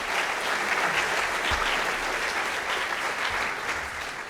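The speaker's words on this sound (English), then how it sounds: "Let's give them all a round of applause." A lecture audience applauds in a hall: sustained, dense clapping from many hands that holds steady for several seconds, then begins to thin slightly toward the end.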